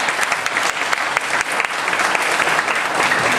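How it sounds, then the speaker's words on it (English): Audience at a library technology summit keynote gives a round of applause, a full, even roar of many hands clapping for several seconds, close and loud, with no speech over it. "Let's give Dana a round of applause."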